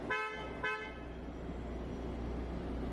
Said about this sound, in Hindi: अब यहाँ पे क्रेटा अलाइक हॉर्न ऑफर करा गया है।